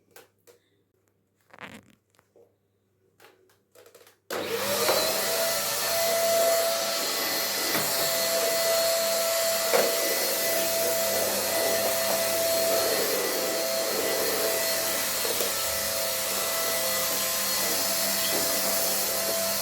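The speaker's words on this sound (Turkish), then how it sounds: "Bir küçük süpürgeyle süpüreyim de yemeğimi hazırladıktan sonra da büyük süpürge çekerim." After some quiet handling clicks, a small vacuum cleaner switches on and runs with a steady high-pitched whine and rushing airflow until the end.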